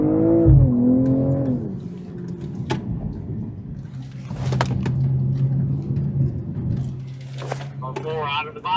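BMW car pulling away on a practice lap at a driving course, engine note rising steadily and holding a sustained drone for several seconds, with voices talking over it and a brief tire or engine whine near the end.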